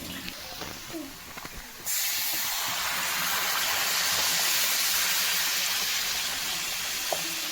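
A little water poured into a hot pan of boiled new potatoes for aloo dum bursts into a loud, steady hiss of steam that carries on unbroken after a quieter start.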